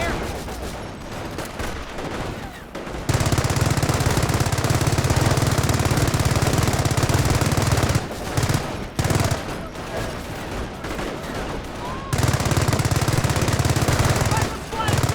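Sustained rattling gunfire and heavy bursts in the World War II strategy game Company of Heroes, loud and dense, with near-continuous automatic fire stopping in brief gaps.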